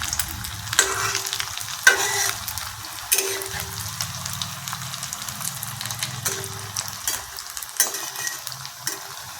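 Fritters of puffed rice and coconut fry gently in oil over a low gas flame. A steady bubbling sizzle carries scattered light crackles and occasional soft clinks.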